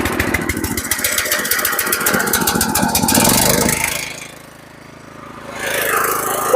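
A self-start power tiller engine cranks and runs with a steady mid-pitched chugging, loud and close. The engine note drops away midway and then builds back up toward the end.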